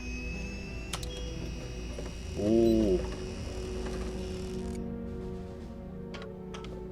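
A battery slot in Fallout 76 gives off a printer-like mechanical sound: a brief warbling whir rises midway over a steady high whine, and the whine then cuts off. A voice lets out a short exclamation.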